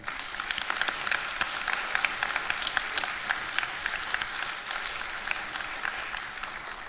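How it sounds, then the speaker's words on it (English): Students and teachers applaud at a school Veterans Day assembly in a hall, a dense, even burst of many hands clapping that keeps a steady level throughout, with no speech on top. "How about a nice round of applause for Mr. Iwan?"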